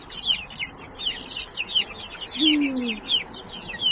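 Many chickens and roosters chirping and clucking in quick bursts in a poultry enclosure, with one low drawn-out cluck standing out nearby amid soft background noise.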